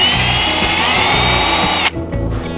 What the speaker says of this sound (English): Try not to drill through my finger.